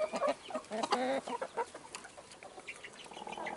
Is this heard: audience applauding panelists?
no